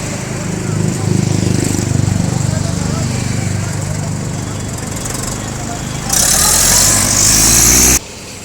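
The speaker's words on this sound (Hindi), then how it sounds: "देखिए किस तरीके से ट्रैक्टर उतार रहे हैं।" A Mahindra tractor engine chugs loudly nearby as the tractor is unloaded at a showroom, with a harsher burst of noise toward the end and brief voices in the background.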